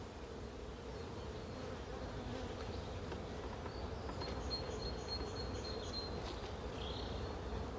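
Honey bees and a few drones buzzing on a national beehive brood frame, a steady dense hum held close throughout with a few brief higher whines near the end.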